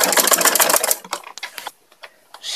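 A sewing machine stitches the legs of a churidar pajama in a rapid clattering burst, then stops into scattered sharp clicks and short runs.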